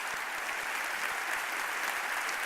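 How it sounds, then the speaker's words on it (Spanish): An audience at a Tec de Monterrey event applauds to welcome a regional vice president to the stage, steady dense clapping filling the room at moderate volume throughout, with no voices over it. "Recibámoslo con un aplauso."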